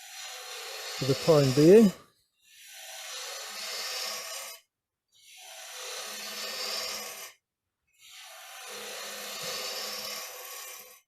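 Wood turning gouge cutting a rounded-bottom box on a lathe, a steady scraping hiss in three long passes separated by short pauses, with a brief spoken phrase at the start.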